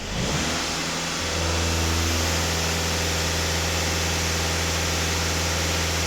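A VW TDI diesel engine idles steadily up close after a brief rev at the start, a constant low rumble with no talking.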